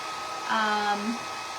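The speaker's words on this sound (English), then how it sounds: "let's dry this with the hair dryer so we can continue." A hair dryer whirs with a steady airy hum while drying a craft wreath, its pitch shifting briefly as it moves, at moderate volume.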